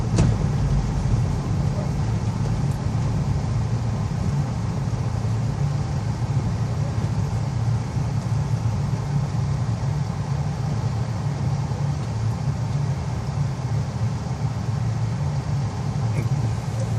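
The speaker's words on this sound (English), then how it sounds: "Some cars are having a hell of a time getting around today." Steady engine drone of cars labouring along a street in a snow storm, a continuous low rumble held at an even level throughout with no clear breaks.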